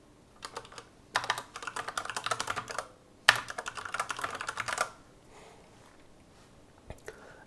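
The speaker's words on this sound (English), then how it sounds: "I'm going to type something different." Two bursts of rapid typing on a computer keyboard, fairly close, with a short pause between them and a quiet stretch with a single tap near the end.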